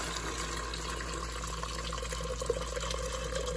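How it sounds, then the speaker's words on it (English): Meatball broth pours steadily into a butter and flour roux in a pot for German Königsberger Klopse, a soft continuous liquid trickle and splash at close range over a faint background hum. "Now we're adding all the broth, or most of the broth from the meatballs."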